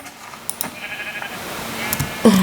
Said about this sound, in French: Continuons à chasser le mouton. Oh, encore un mouton.